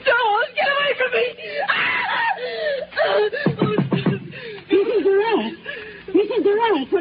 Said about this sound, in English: Why were you screaming?